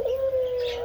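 A single sustained dove coo, smooth and mellow, heard up close with no talking.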